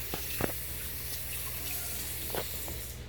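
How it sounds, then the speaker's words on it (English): Tap water runs steadily into a kitchen sink as hands are washed while cooking garlic butter shrimp, a quiet, even hiss with a few faint splashes and clinks, no talking. "I'm gonna wash my hand one more time"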